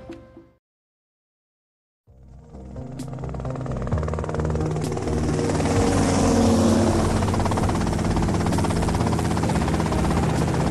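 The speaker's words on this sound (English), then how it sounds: "that's them in the chopper" Helicopter in the video game GTA Vice City, rotor and engine drone rising out of near silence after a brief opening sound, then holding loud and steady throughout.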